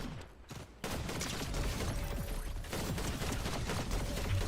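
Rapid gunfire in the video game Fortnite, a dense continuous fusillade that starts abruptly after a short quiet lead-in and keeps going under a steady background.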